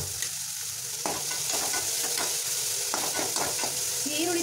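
Lengthwise-sliced onion frying in a pan, with a loud, constant sizzle and occasional scraping stirs from a spatula, heard up close with no talking.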